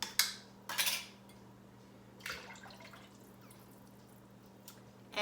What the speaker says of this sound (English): And I'll just give that a stir and let that hang out and start boiling.